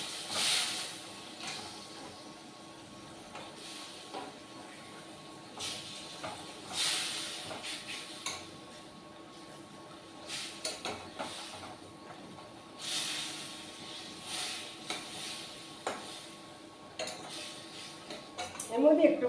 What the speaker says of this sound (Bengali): এবার আমি মাছগুলো একে একে এর মধ্যে দিয়ে দেবো।